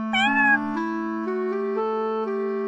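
A single long, drawn-out cat meow, close and clear, holding a steady pitch that rises slightly partway through.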